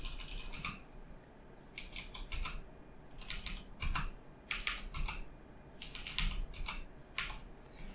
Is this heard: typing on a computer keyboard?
yes